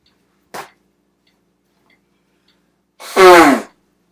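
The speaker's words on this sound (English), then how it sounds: "Gonna blow my nose here again." A person blows their nose: a faint brief sniff or puff, then after a pause one loud, close, half-second honking blow, alone with no talk.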